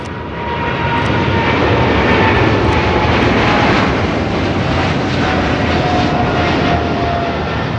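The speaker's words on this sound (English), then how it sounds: "That was China Airlines Cargo 5382 taking off to Miami, Florida on a 777 freighter." China Airlines Cargo Boeing 777 freighter taking off from LAX, a loud, continuous jet engine roar that swells and holds steady, heard alone without talk.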